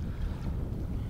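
A boat engine idling on the water during an alligator fishing outing, heard as a low, steady rumble mixed with wind noise, with no voices.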